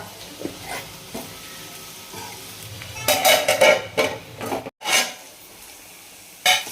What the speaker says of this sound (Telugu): అప్పుడప్పుడు కలుపుతూ మగ్గించుకోవాలరా చిన్న మంట మీద